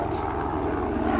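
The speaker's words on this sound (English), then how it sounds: "where we live is like airfields, helicopters, and airplanes." An aircraft drones near an airfield, a continuous propeller-like engine hum with steady rumble, loud and unbroken for a brief moment.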